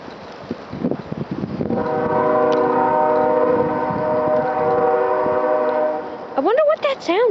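A loud, sustained horn blares for several seconds over outdoor background noise, followed by a brief voice at the end.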